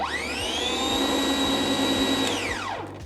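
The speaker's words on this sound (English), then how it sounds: "If I push the button and pull the lever, you'll hear it start." A cordless garden scarifier's electric motor starts up and runs, its whine rising to a steady high pitch for about two seconds, then winding down as it stops; loud and close, with no talking.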